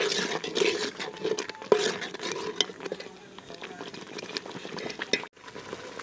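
A soft sizzle and bubbling of masala cooking in hot oil for fish curry, with occasional stirring scrapes and a voice talking over it.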